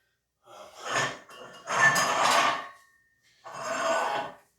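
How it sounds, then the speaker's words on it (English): Heavy, labored breathing from a man catching his breath after a set of military overhead presses, three long loud breaths separated by short pauses, close to the microphone. "they'll hear me breathing"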